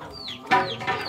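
Chickens cluck close by in a coop, with a few sharp, rising calls in quick succession and a soft voice faintly underneath.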